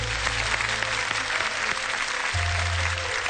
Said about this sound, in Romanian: Aplauze pentru bunica!